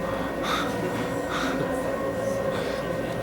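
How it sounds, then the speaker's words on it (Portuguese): A metro train rolls past a house at close range, a steady dense rumble and rail hiss that holds evenly throughout, with faint periodic clacks and whooshes riding on top. "Sacanagem você ter um trem desse passando na porta da tua casa."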